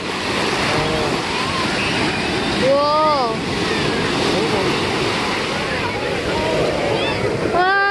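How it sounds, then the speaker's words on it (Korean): Steady roar of high surf washing close by on a beach in Rio de Janeiro, loud and continuous, with a person exclaiming briefly over it and wind noise throughout. "파도가 되게 높아"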